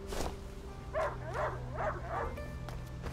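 A dog barks in the video game A Plague Tale: Innocence, four or five close, evenly spaced barks over a low steady game ambience.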